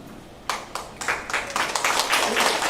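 Applause from an audience at a fourth-grade school awards ceremony, starting with a few scattered claps and quickly building into steady, dense clapping across the room.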